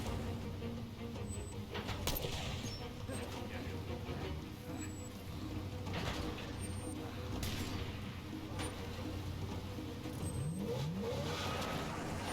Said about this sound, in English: I hear a car, but I don't see it.